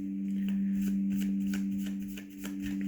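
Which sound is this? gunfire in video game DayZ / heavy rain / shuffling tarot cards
shuffling tarot cards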